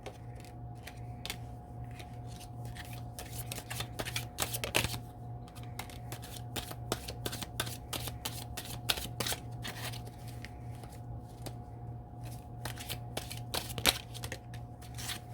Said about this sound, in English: let me pull you some of these tea leaf cards and get some more clarity here